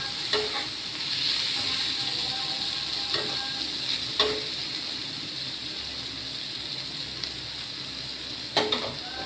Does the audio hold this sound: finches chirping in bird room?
no